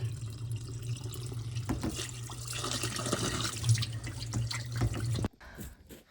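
Water drains and spills from a unit during apartment maintenance, a steady running, splashing flow that carries on for about five seconds, then cuts off abruptly, leaving only faint drips and quiet room sound.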